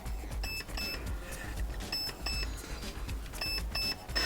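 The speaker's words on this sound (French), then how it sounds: "Ça bip 2 fois, donc on a un burst de 2." Short electronic beeps from an airsoft gun, a Perun Hybrid V2 unit set to two-round burst, recur in pairs roughly every second and a half, over a low rumbling background with faint handling noise.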